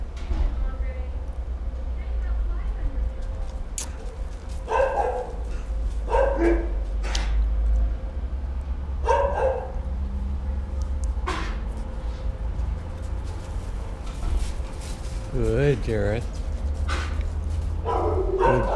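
A two-year-old shelter dog in a kennel barks in several separate bursts, moderately close, with yips and whimper-like sounds in between, while a person talks soothingly over it.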